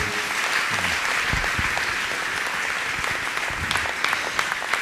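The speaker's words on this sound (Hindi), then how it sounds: "मैं चाहूँगा अगर सब जन अगर उनके लिए एक बार जोरदार तालियां बजा दे।" An audience at a religious discourse session by a Jain monk bursts into loud, sustained applause, dense clapping filling the whole stretch with a few sharper claps standing out toward the end.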